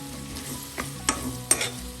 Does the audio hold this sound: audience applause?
no